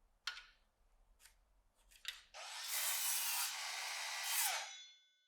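Plywood parts being cut to length, a few light taps and scrapes first, then a loud continuous saw cut of about two and a half seconds that tapers off and ends.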